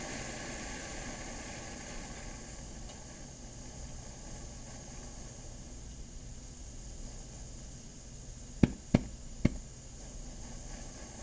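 A SIGG FireJet camping stove fed through a Primus hose adapter burns with a steady, close roaring hiss throughout, broken near the end by a few sharp clicks.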